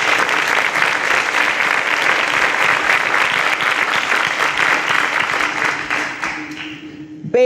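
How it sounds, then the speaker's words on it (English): A studio audience on a quiz show gives a round of applause, dense and steady clapping that fades out near the end as a short musical tone enters. "A round of applause for the Wright brothers."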